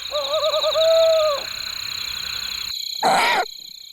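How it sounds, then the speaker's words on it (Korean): A male owl in the wild of the Korean peninsula calls after a successful hunt, a wavering, tremulous hoot that is clear and fairly close, followed by a brief burst of noise. "사냥의 성공을 알리는 수컷의 울음소리."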